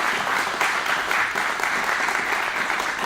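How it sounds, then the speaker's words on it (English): A steady round of applause from an audience at a farm bill announcement event, dense clapping that holds at an even level for a few seconds with no voices. "Please give them a round of applause for your help as well."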